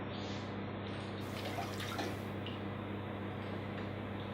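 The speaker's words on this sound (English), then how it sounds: "The next thing I'm going to do is add the milk to the pot." Milk pours into a cooking pot for a chocolate mud cake, a steady liquid splashing and trickling over a constant low hum, close and moderately quiet, with no voices.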